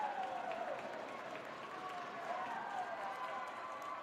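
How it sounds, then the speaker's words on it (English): Crowd at a women's college ice hockey game between McKendree and Maryville jeering the officials, a sustained wash of booing and noise filling the arena, heard at a distance and fairly faint. "A Bronx cheer reigns in on the officials."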